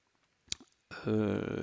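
A single sharp mouse click in Atlascom commercial management software, quiet and brief, followed by a louder sustained tonal hum.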